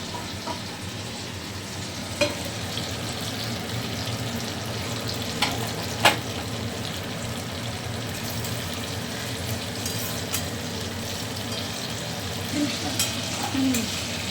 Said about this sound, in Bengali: এটা ঝোলে দেবো সেই জন্য খুব বেশি করে বেশি লাল করে ভাজলাম না